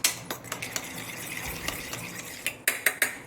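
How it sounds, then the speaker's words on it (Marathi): Boiled potato mixture with fresh coriander and a little salt is stirred and mixed with a utensil in a pan, producing soft scraping and several sharp clinks and taps against the metal, loudest near the end. "आता याला मस्त एकत्रित करून घेऊ आपण"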